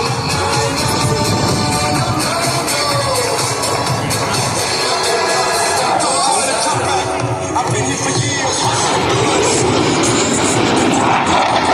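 Aerobatic airplanes at an airshow cross over show center, their engines a broad, loud roar that builds and shifts. An announcer talks over it while a crowd murmurs.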